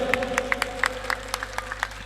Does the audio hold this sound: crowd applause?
yes